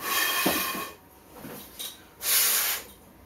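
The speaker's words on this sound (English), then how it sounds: "I'm gonna blow this out with some compressor." Compressed air hisses through a cleaned .45 caliber muzzleloader pistol in bursts: a longer blast at the start, a short puff, then a strong blast near the end, all close and with no talk.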